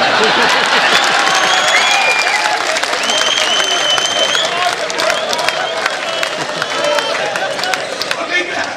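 Audience at a Hindi kavi sammelan poetry recital bursts into loud, sustained applause mixed with crowd noise and cheering, fading slightly toward the end.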